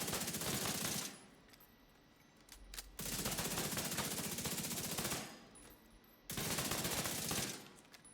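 Video game gunfire from the weapon Dilemma rips out in three long, loud automatic bursts, each sustained for roughly two seconds, with brief quiet gaps between them.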